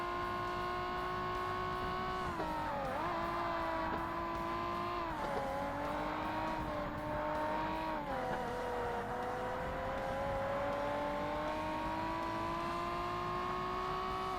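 Race car engines roar continuously in Forza Motorsport during a championship race with a Zonda and a Ferrari, the steady loud whine rising and dipping in pitch with gear changes and cornering.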